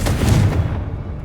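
A Confringo spell blast from Hogwarts Legacy lands as a single loud, booming low thump with a short rumbling decay, close and heavy like artillery fire, with no voices over it.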